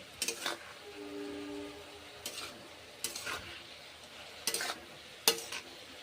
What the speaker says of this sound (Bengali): ভেজে নিচ্ছি বাঁধাকপিগুলো নেড়ে চেড়ে খুন্তি করে কুক করছি